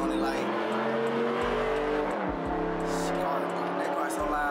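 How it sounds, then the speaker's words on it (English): A loud car roars past close by, its engine note rising and falling steadily, while someone talks over it. "that car's so loud, man."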